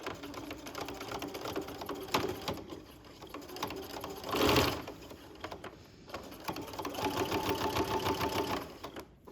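A sewing machine runs steadily, stitching a 1/16-inch edge stitch along a neck facing seam, with its motor whirring on, pausing briefly near the middle before resuming.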